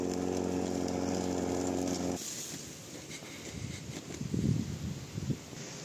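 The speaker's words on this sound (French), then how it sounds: "Et de retour avec la bonne vieille tondeuse." A lawn mower engine drones loudly, then cuts out abruptly, leaving soft rustling and light outdoor noise.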